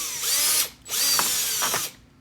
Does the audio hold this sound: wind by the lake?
no